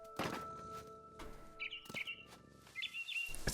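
A frightened barn swallow in What Remains of Edith Finch lets out short, bright chirps in a few scattered bursts over soft ambient game sound, with a faint flutter and a dull thunk in between.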